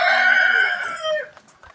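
Egg-laying hens on a poultry farm, with a loud, close bird call that swells into a sustained crowing-like cry, then fades into faint scattered clucks and rustling.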